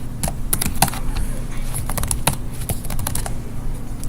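Rapid typing on a computer keyboard, close and steady, with irregular bursts of sharp key clicks running throughout with no talk.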